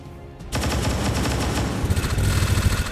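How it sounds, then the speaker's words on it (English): An auto pistol fires a rapid burst in the strategy game XCOM 2, opening with a sharp crack after a short lull, then dense rattling shots that continue loud and close to the end. "I think we're going to do the auto pistol burst."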